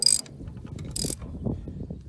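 A socket wrench ratchets on an old Minneapolis Moline tractor, giving a few close, short clicking bursts of metal pawl and gear noise with no talking.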